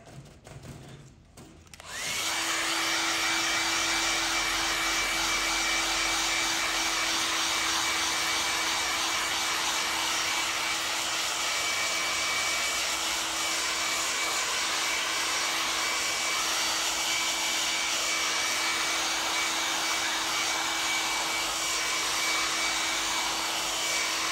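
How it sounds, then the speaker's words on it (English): A hairdryer blows steadily over freshly applied leather dye on a jacket, starting after a brief handling noise and then running as a loud, continuous whir with a constant whine for over twenty seconds. "Go over that with the hairdryer."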